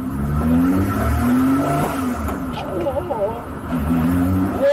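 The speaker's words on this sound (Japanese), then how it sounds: "わぁ、スーパーチャージャー効いてる。" A Lotus 3-Eleven road version accelerates hard from inside the car, its engine note climbing with a rising supercharger whine and a brief tire chirp, while voices talk over the engine.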